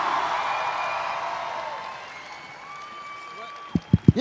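A crowd keeps clapping and cheering for an actor at the Toulouse Game Show 2021 convention; the applause is moderately loud, then thins and fades before a voice starts speaking.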